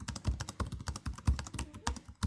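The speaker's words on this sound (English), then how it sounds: "The keys themselves are excellent and very satisfying to press down." Keys on a gaming laptop keyboard are typed in a quick, uneven run of close, crisp clicks and taps, with nothing else heard.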